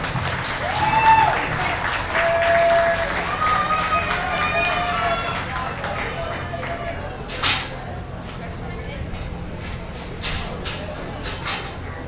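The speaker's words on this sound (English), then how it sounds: "If you would, give these 3 young ladies a really nice round of applause." Applause from the audience at a county fair swine show, a broad steady patter of clapping filling the space, with some crowd murmur and a few sharper knocks and thumps late on.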